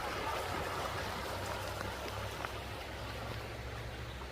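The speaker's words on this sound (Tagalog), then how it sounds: "Yan ang agos ng tubig oh." A river current flows in a steady, broad rushing wash that stays continuous and even throughout, close by, with no voices over it.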